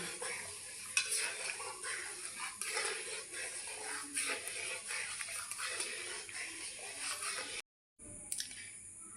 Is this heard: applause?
no